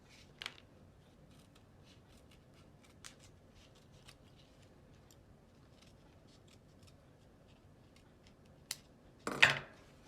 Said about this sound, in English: we're just going to cut this 1-inch strap a little narrow so it can fit through the web space